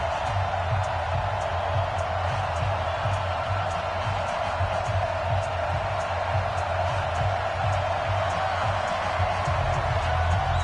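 Steady, dense roar of an NFL stadium crowd at a Carolina Panthers versus Atlanta Falcons game late in the season, a continuous wash of murmur and cheering with faint rhythmic claps.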